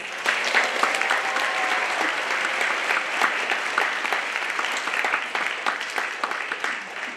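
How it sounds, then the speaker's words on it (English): Sustained audience applause for a cappella guest performers at a stage show, dense steady clapping filling the hall from start to finish without speech. "Let's give them another round of applause."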